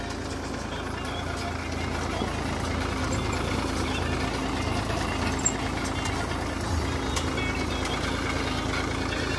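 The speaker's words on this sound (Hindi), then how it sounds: "वो एक और महिंद्रा 265 जा रहा है" A Mahindra 265 DI tractor sowing guar in a field, its engine a steady low drone that runs throughout at moderate distance, with no clear talking.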